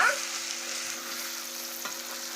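Ginger garlic paste fries in hot oil for chicken pickle, a steady close sizzle with a faint constant hum underneath.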